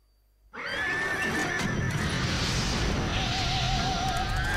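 A horse neighs in the video game Parasite Eve as it catches fire; the loud whinny bursts in suddenly out of silence and rings out over a rumbling, crashing backdrop.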